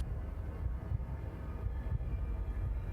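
Steady low rumble of a train running, a continuous rolling drone with faint rhythmic thumps, heard alone with no voices.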